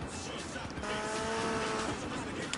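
A motorcycle braking hard in GTA Vice City, a drawn-out tire squeal and skid over engine noise, close and loud, with a voice speaking over it.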